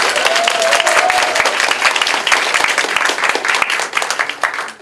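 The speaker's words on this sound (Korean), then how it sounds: "뜨거운 박수 한번 부탁드립니다." Warm applause from a crowd at a campaign office opening ceremony fills the room, steady dense clapping that holds for several seconds before tapering slightly at the end.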